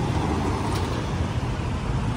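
Dense street traffic in Bangkok, a steady loud roar of cars, buses and engines close by, continuous with no distinct events and no talk.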